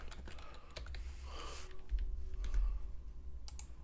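Keys clatter on a computer keyboard in quick irregular bursts, close and fairly quiet, with a short flurry of taps and a brief pause between groups.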